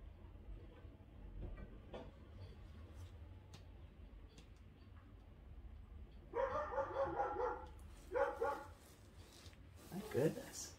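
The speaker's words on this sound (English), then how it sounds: "It's kind of crazy out there between the birds and the dogs." Dogs bark in a few loud bursts outside, layered over faint background rumble and distant sounds, with no clear talk.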